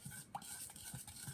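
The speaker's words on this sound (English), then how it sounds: "Just go ahead and give it a thorough mix." A spoon stirs and mixes char siu marinade in a bowl, giving quiet, close scraping and clinking taps in an uneven rhythm, faint and alone without talk.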